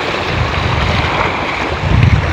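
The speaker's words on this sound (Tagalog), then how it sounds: "So ito dagat na yan." Sea waves at the shore of an old Japanese-era port wash in a steady, loud roar mixed with wind buffeting the microphone, with no one talking.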